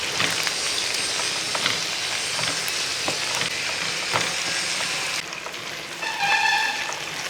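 Sliced onion and coconut pieces frying in a pan for a raw plantain stir-fry give a steady, close sizzle with occasional stirring clicks throughout, no talking.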